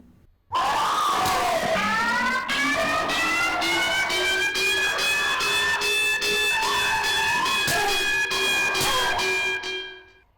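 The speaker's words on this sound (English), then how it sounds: "The real fear comes from the loud siren effect and screaming." A loud, wailing siren in a Puppet Combo horror video game rises and sustains with overlapping tones, accompanied by harsh screams and noisy bursts, continuous for several seconds before cutting off.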